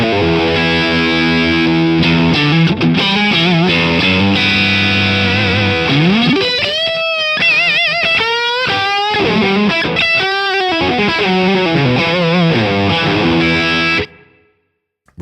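Heavily distorted electric guitar through the Neural DSP Archetype amp plugin, with a British amp character, plays loud chugging riffs and sustained bends with wobbling pitch effects, then cuts off abruptly near the end; no talking.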